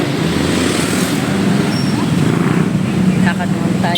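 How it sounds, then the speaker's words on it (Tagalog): Steady, loud road traffic rumble from passing cars, buses and trucks on a busy morning street, a continuous wash of engine noise with a brief brake hiss near the end. "Ang ingay ng mga sasakyan."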